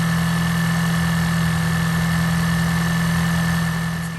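A 2024 Ford Ranger XLT 4x4 pickup's 2.3-liter EcoBoost turbo engine idles steadily with a low hum and a constant mid-pitched whine, loud and close throughout.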